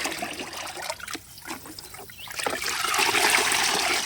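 Liquid fertilizer solution is poured into water for mixing, a trickling, splashing stream that fades briefly before returning fuller and louder, close by and with no talking.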